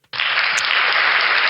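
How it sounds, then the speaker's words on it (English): Applause for Florida State after a touchdown run in a college football game: a dense, steady wash of many hands clapping that starts abruptly and holds loud and even throughout. "just want to clap it up for Florida State"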